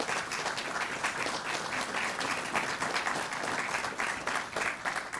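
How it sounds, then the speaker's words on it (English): After the national anthem at a police promotions and swearing-in ceremony, an audience gives even, continuous applause at moderate volume for over five seconds, with no other sounds over it. "a round of applause for that national anthem."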